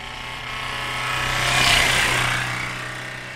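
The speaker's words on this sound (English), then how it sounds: "we drained 2 cars from oil and drove them until they broke." A car engine run with its oil drained drones and grinds as it breaks down, swelling to a harsh, loud peak midway before easing back into a steady mechanical roar.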